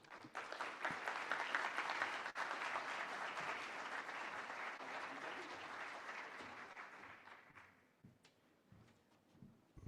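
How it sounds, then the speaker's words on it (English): Sustained audience applause fills a conference hall after a speech on hemispheric security, a dense wash of clapping that holds steady for most of the stretch before thinning out and trailing into scattered claps near the end. "One more round of applause for Rick."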